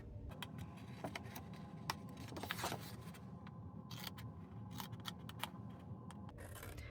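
Scissors trim the flaps off a paper card in a quiet room, making several crisp snips and clicks spread irregularly over a low, steady background hum.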